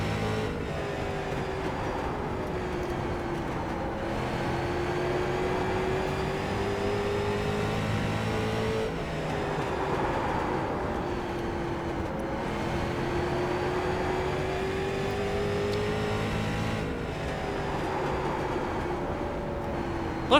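Race car engine in an oval racing video game, driven hard toward blowing the motor: a steady, continuous drone with rising and falling pitch sweeps as it revs, cycling through a few acceleration passes, loud and alone without talk.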